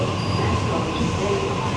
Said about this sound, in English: Here's my train, guys.